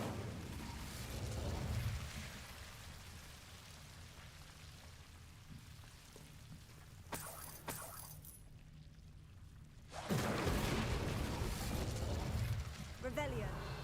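An Incendio fire spell cast in the Hogwarts video game: a sudden, loud, broad whooshing, crackling burst of flame that follows a quieter stretch of ambient rumble and keeps roaring steadily afterward.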